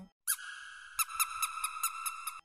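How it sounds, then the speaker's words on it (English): A squeaky mini crewmate dog toy gives a long, high rubbery squeak followed by a quick run of shorter squeaks as it is squeezed repeatedly, close and clear with no voices. "I have a squeaky mini crewmate now."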